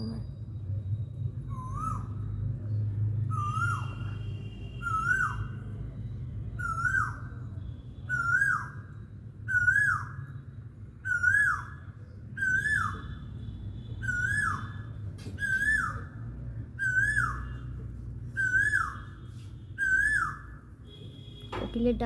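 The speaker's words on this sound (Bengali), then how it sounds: "কোকিল ডাকছে দেখো" An Asian koel calls again and again, a rising whistled note repeated about every one and a half seconds, clear over a low rumbling background.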